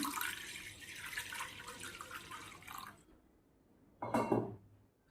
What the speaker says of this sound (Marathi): कडेमध्ये आपण पाणी घालतो आहे